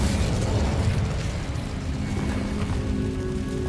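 A fire spell cast in Hogwarts Legacy gives a loud, sustained whooshing burst with rumbling low end that fades slightly, heard alone without voices.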